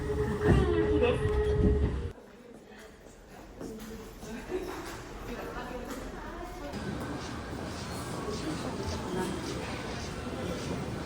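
A train bound for Fukui rumbles steadily along in heavy rain with a broad, rushing roar and faint rattling. Earlier there is a brief tonal announcement-like chime under louder noise.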